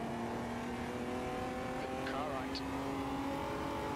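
Engine of an Omega Brazilian Stock Car in the Automobilista 2 racing game, a big heavy engine revving with a steady drone and a brief sweep up and down, under someone talking.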